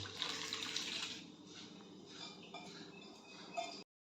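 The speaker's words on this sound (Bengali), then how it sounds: "তাই আমি ছোলার ডালটা দিয়ে দিচ্ছি এই গরম জলে" Soaked chana dal poured into a pot of hot water: a steady watery splash and rush, loudest at first, then settling into quieter sloshing with a light clink near the end, close by and with no voices.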